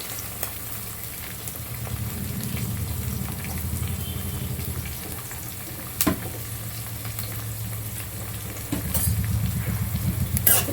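Chopped onions and green chillies frying in oil in a pan for Uttara Karnataka mandakki mirchi, a steady close sizzle with occasional stirring scrapes and clatters, no talking.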